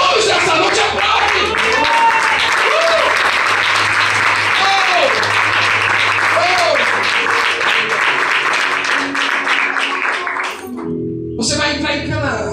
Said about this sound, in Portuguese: Se eu fosse você, eu aplaudiria a Jesus nessa noite. Aplaude!